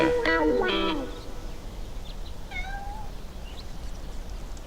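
A cat meows twice, close and clear, first a quick pair of meows then a softer, higher, drawn-out meow over faint background noise.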